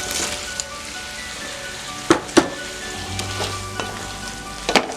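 Potatoes frying in a pan for an eggplant and potato curry give a steady sizzle with a few sharp clicks and taps from utensils.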